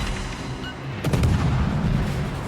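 Naval gunfire in the World of Warships video game, with a heavy booming salvo about a second in that rolls into sustained low rumble, loud and close, no talk over it.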